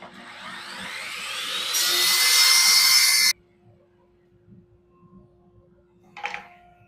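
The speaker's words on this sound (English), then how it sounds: "Who left the dust collector running?" A workshop dust collector runs with a steady broadband roar that swells louder, then shuts off abruptly, leaving near-silence broken by a brief clatter.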